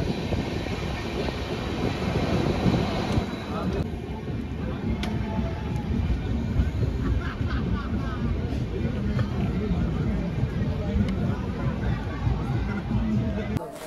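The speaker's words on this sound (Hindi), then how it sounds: "ट्रेन बिल्कुल स्लो चल रही है" A passenger train creeps slowly through thick fog toward Panipat station in India, giving a continuous low rumble with faint clicks from the wheels and a distant murmur of voices inside the carriage.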